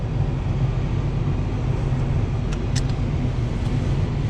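A vehicle engine runs at a steady idle close by, giving a continuous low rumble with no break and no voices over it.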